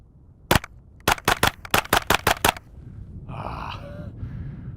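A suppressed KRISS Vector Gen 2 fires, with one shot followed by a rapid string of about eight sharp, close reports. A breathy exhale and a faint vocal sound follow the burst.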